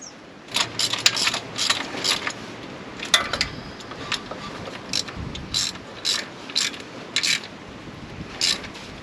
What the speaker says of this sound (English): I'm just going to go ahead and bolt this right back into place.